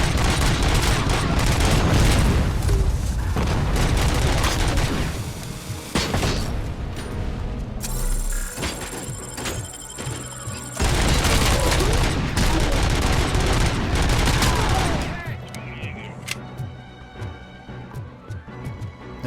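Heavy, rapid bursts of overpowered gunfire in the Robocop: Rogue City game, loud and dense with booming impacts, pausing briefly around the middle before another sustained volley, then trailing into quieter mechanical clatter.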